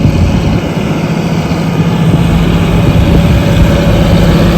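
A John Deere 8310R tractor with navigation, pulling a 3-ton Amazon spreader while top-dressing winter wheat in Ukraine, runs with a steady, loud, close engine drone and low hum throughout. No one speaks.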